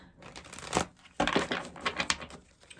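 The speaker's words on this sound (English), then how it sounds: "Let me shuffle once more" Tarot cards being shuffled by hand give soft, close riffling and flicking bursts in a quiet room, with brief pauses between handfuls.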